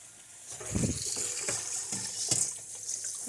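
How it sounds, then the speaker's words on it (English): A sink tap runs over rocks being rinsed by hand, giving a soft splashing gush of water with brief clatters, quiet and close. "let me rinse this off real quick"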